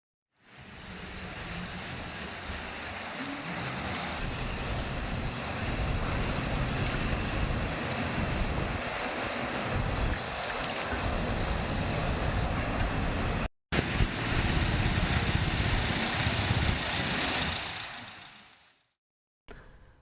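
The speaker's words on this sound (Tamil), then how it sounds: "சாலையில் தண்ணீர் பாய்ந்தோடும் காட்சியை பார்ப்போம்" Rainwater floods across the Sriperumbudur–Kundrathur road in a loud, steady roar of rushing water that runs unbroken for nearly twenty seconds apart from a brief cut.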